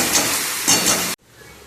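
Potatoes hit hot oil with a little turmeric in a pan, a loud steady sizzle with two brief stirring surges, cutting off abruptly near the end to a faint hiss.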